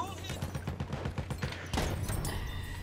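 Rapid gunshots crack in quick succession in Battlefield 1, a fast rhythmic burst followed by a louder impact, with talk underneath.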